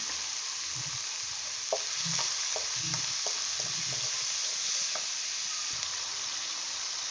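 Onions sauté in a pan with ghee for chicken curry, a steady close sizzle with repeated scraping stirs in an uneven rhythm and no talking.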